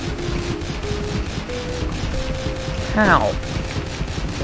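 Rapid gunfire in the video game Dead Estate, a steady stream of quick, evenly spaced shots over sustained musical tones, with a brief spoken word partway through.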